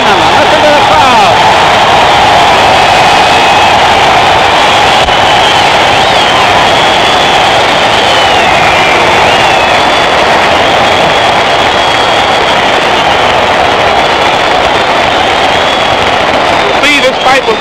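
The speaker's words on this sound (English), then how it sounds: "listen to the crowd" A boxing crowd roars steadily near the end of a close fight featuring Floyd Patterson, a dense continuous wash of cheering and shouting that stays loud throughout with no pause.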